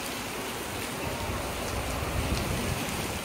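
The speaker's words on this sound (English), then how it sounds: "since it's raining" Steady rain falling outside around the afternoon, a dense, even hiss of drops continuing unbroken throughout at moderate loudness.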